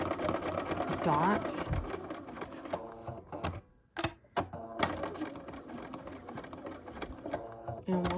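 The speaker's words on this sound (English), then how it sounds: "I want to back stitch it, the beginning and the end." A sewing machine runs in steady bursts, back stitching the seam of a handmade bag at the start and end, with a brief pause midway while someone talks over the stitching.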